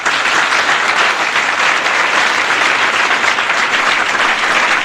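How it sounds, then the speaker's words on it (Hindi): Loud, dense applause from a large crowd, a continuous wash of clapping held at full strength for about five seconds with no voices over it. "तो एक बार समय के लिए जोरदार तालियां बजाइए"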